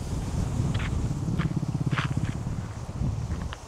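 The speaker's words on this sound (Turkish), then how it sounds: "Böyle ipler aslında gergisi çok mantıklı ama şu düzenek ses yapıyor rüzgarda." Tent ropes and rigging strained by wind at a campsite, giving a continuous low groaning, creaking rumble close by that resembles a bear's growl or a motorcycle, with brief gusty flaps on top.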